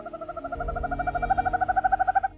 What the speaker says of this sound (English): The silent assassin, the snowy owl.